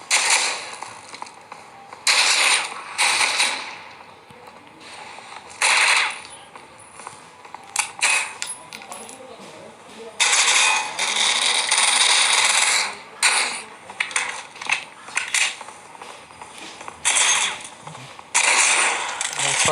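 Weapon handling on the Super 90 shotgun in the mobile shooter Critical Ops, with bursts of mechanical clacks and ratcheting clicks recurring through the stretch, fairly loud and close.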